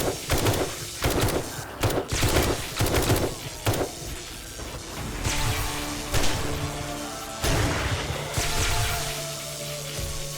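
Rapid gunfire fills the first four seconds of a zombie horde night in the game 7 Days to Die, with bursts of close shots followed by lighter scattered shots, impacts and crashes over a steady background rumble.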